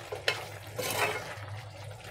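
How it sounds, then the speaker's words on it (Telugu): Ridge gourd and chickpea curry being stirred in a pan with garam masala and coriander, a few soft scraping strokes over a low, steady sizzle. "బాగా కలుపుకుందాము"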